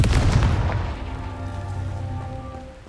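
The Confringo fire spell goes off in the Hogwarts Legacy video game as a loud, close burst that booms briefly and then fades into a crackling, rumbling tail.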